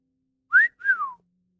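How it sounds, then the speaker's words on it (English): A person whistles two short notes alone, the first rising quickly and the second longer and gliding downward, clear and close with silence around them. "Can you whistle for me"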